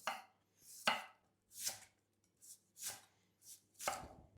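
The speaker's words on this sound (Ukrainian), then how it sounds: "Цибулю я нарізаю ось такими скибочками" A knife slices an onion into rings in seven crisp cuts at an uneven, unhurried pace, each a sharp close-up crunch followed by quiet.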